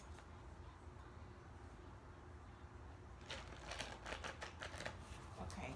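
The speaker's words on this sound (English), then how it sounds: "I'm shuffling with y'all on camera." Quiet room, then a faint burst of rapid riffling and tapping as tarot cards are shuffled close by.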